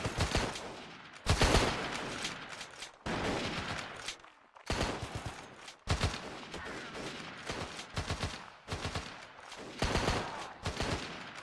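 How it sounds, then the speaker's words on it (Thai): Repeated bursts of rapid automatic gunfire in the video game Mount & Blade: Warband, several long volleys separated by brief pauses, loud and close, like a machine gun in a shooting game. "ยิงปืนกลไหม"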